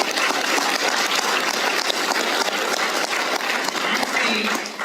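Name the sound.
audience applause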